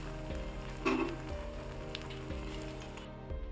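Breakfast batter sprinkled with sesame seeds and curry leaves cooks under a lid on a low flame, giving a soft, quiet sizzle beneath a low steady hum, with no one speaking.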